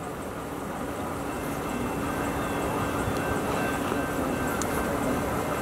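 A passing freight train fills the air with a dense, steady rumble and rolling rail noise, loud and close, constant throughout without pauses or voices.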